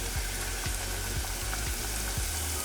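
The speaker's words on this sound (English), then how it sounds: "I got to be pretty careful because it's hot, so I don't want to splatter oil on myself" Churro tots frying in hot oil, a steady close sizzle with soft bubbling and small pops throughout, no talking.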